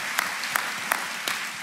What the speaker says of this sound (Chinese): 请再给他们一次掌声好吗？